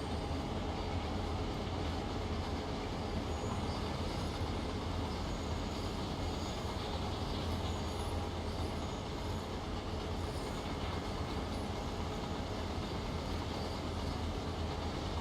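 A train rolls continuously in a train-driving video game, a steady low rumble of wheels on rails with faint squeals and a constant, even level throughout, no talking.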